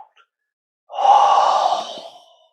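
A single deep, airy exhalation during a qigong breathing exercise, close and clear, swelling quickly and then fading gently over about a second and a half after a brief quiet.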